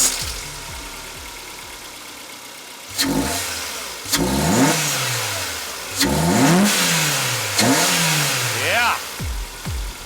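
Car engine fitted with a cheap aftermarket intake, revved in several sharp bursts that rise and fall from idle, close and loud, with a brief spoken word among the revs.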